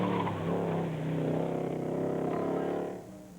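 A loud rally car engine roars steadily at high revs, sustained and close, then drops away abruptly near the end.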